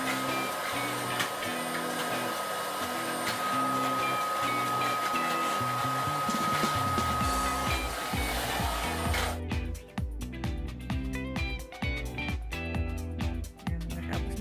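A vacuum cleaner drones loudly with a steady whine, then shifts to lower, uneven rumbling and clattering as it works over a surface.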